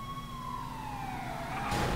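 A police siren in a video game (GTA V roleplay) wails with a falling pitch sweep, steady and fairly loud, ending in a burst of noise.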